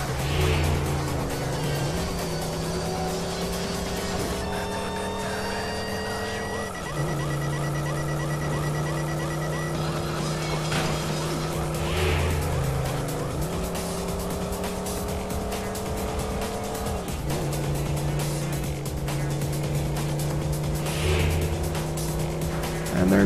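Cars race in the Midnight Club: Los Angeles video game, engines droning steadily with rising and falling gear shifts and occasional tire squeal, a continuous loud game mix with no talking.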